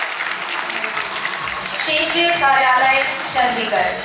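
Audience applause at an award ceremony as a regional office receives a prize, steady crowd clapping running throughout beneath an announcer's voice and a few tonal sounds.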